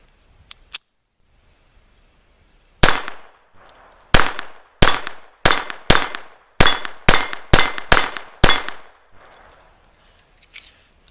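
A Llama Especial .22 pistol fires about eleven rounds of 36 grain hollow points at a 9-inch steel plate 13 yards away, each sharp crack followed by a ringing metallic clang, in a quick irregular string after a few quiet clicks.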